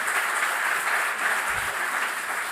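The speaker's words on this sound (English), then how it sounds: "I'd like a big applause for handling these difficult questions" A crowd at a university honours programme closing ceremony gives sustained, fairly loud applause, an even wash of many hands clapping without a break.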